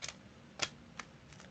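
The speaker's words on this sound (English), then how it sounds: "who's whacking on the keyboard?" Several sharp, faint clacks from someone hitting a computer keyboard hard, spaced irregularly across a quiet moment with no talking.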